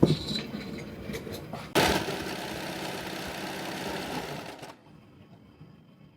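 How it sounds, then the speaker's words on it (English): A regular sewing machine whirs in a steady mechanical stitching run, fairly close, sewing a straight seam on an abaya overhead garment, then stops abruptly, leaving quiet room tone. "We are going to use a regular sewing machine"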